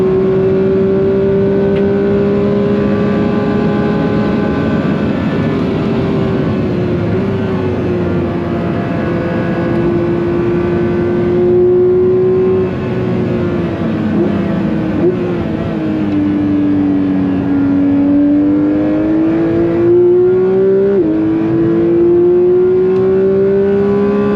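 Race car engine heard from an onboard camera on a lap of the Nürburgring, holding a loud, steady drone that rises and falls through gear changes and throttle, close and continuous with no talk.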